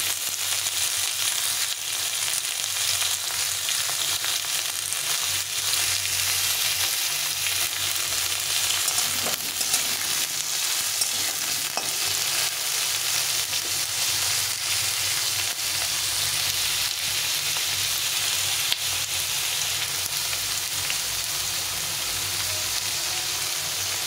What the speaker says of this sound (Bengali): এখন এর মধ্যে দিয়ে দেবো আমি ওই কয়েকটা করে আলু আর পেঁয়াজটাকে একসঙ্গে ভেজে নেব